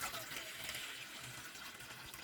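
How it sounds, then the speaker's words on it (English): Water is poured into a deep cooking vessel on the stove for tomato vermicelli upma, a soft, steady gushing fill heard faintly and alone for a couple of seconds. "add water to it."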